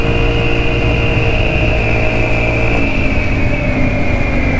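A GY6 150cc scooter engine with a loose, nearly detached exhaust drones loud and steady while the rider pulls over, giving a continuous buzzing hum with no voices.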